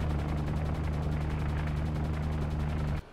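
Submarine deck guns fire a sustained, rapid burst at an attacking plane in the video game UBOAT, a dense rattle of gunfire over a low droning hum that runs for about three seconds and then cuts off abruptly.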